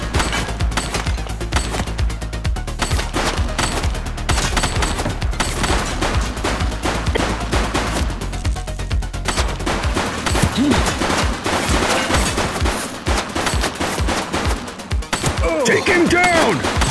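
Rapid video-game gunfire from The Precinct, dense bursts of automatic shots and thuds in a loud, sustained fusillade, with shouted voices mixed in.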